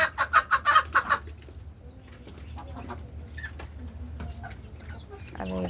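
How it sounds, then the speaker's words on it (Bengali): Native chickens and roosters kept in cages flap their wings loudly in a quick burst at first, followed by scattered soft clucks and rustling in a quieter farm setting. "এগুলো এরকম দেশি মোরগ মুরগি এরকম খাঁচায় লালন পালন করে উপরে বড় হয়েছে"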